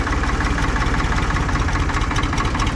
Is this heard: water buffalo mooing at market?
no